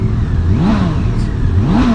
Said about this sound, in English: Can you hear that motor?